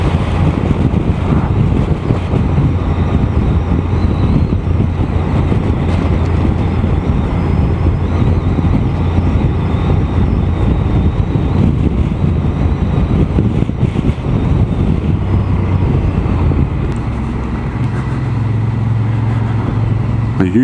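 Constant roaring wind buffeting the microphone while riding a motorcycle by the sea, a loud low rumble mixed with engine-like drone, with no break throughout.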